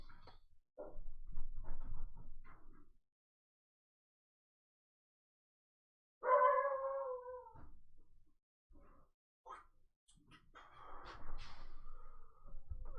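A dog howls and whimpers in short bursts indoors, close to the microphone, with breathy yips between drawn-out wavering howls and a long silent gap midway, no one speaking.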